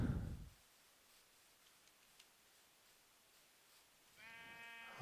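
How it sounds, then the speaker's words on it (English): Sheep bleat in a Minecraft world: one bleat at the start, then near-silence with faint ticks, then another wavering bleat near the end. "There's some more sheep."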